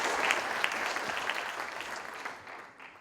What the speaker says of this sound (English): Please give a big round of applause to Josh Sommer.